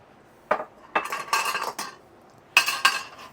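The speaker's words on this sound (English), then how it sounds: "Give it a stir." A spoon scrapes and knocks against a pot while Guinness beef stew with broth is stirred, several distinct clanks and scraping strokes in short bursts, close and clear.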